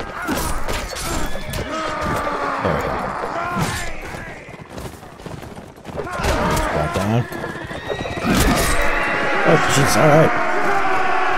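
Horses neigh and whinny amid galloping hoofbeats during a castle siege battle in the Mount and Blade Warband video game, loud and continuous, with clashing combat noise and someone talking over it.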